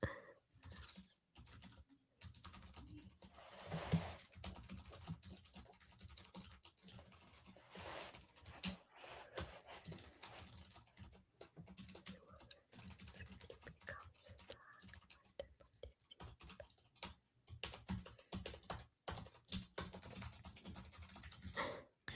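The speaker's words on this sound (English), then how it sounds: "I'm typing as fast as I can." Typing on a computer keyboard, a steady patter of quick key clicks running without a break, soft and close, with faint murmuring in the background.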